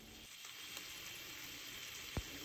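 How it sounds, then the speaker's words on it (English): Smoky bacon sizzles and crackles steadily in a hot cast iron skillet, a soft continuous fizz with one sharp pop near the end. "That's the sound of some smoky bacon sizzling."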